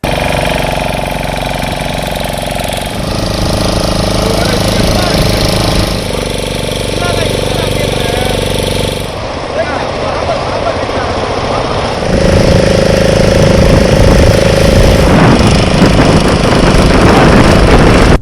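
A boat engine drones loudly and steadily on the Kosasthalaiyar river in Chennai, close and rough with a knocking chug that shifts in pitch partway through, while a voice talks over it.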